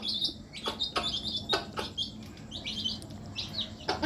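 Young chicks chirp in quick, high bursts while pecking at food, close by, with soft pattering and scratching between calls.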